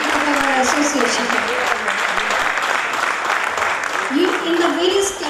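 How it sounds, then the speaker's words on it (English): Audience at an officers' wives association cultural evening claps for senior members, sustained full-room applause with a few voices rising over it throughout. "I request all of you kindly give a huge round of applause"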